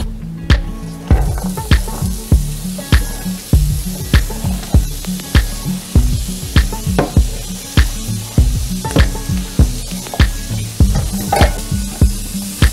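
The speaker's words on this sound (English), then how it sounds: "And I like to cook my onions just a little bit before I add the beef in." Chopped onions sizzle in a hot pan, with a constant hiss under frequent sharp clacks and scrapes from a utensil stirring them, close up and without speech.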